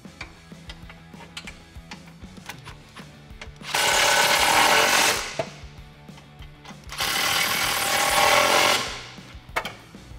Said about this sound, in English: grab your 13 socket and extension,